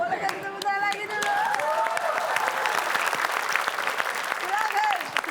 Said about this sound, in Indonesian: Boleh kasih tepuk tangan lagi dulu